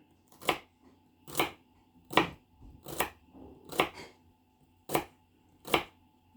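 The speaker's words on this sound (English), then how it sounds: "just keep chopping that celery till it's all done" Sharp knife chops on a cutting board through celery, seven evenly spaced strikes with quiet gaps between them.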